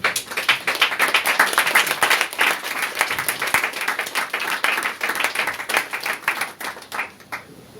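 A church congregation applauding together, dense sustained clapping from many hands that holds steady and then tapers off near the end.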